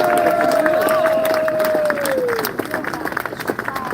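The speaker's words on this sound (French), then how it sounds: "on peut les applaudir aux organisateurs et aux bénévoles qui rendent possible ces manifestations" A crowd at a Paris political rally applauds and cheers, with a whistle or shout gliding down over dense clapping that gradually thins toward the end.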